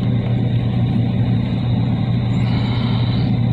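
A 2009 2500HD pickup with the 6.0 gas engine pulling a trailer in tow mode, giving a steady loud low engine drone with road roar, continuous and without talk.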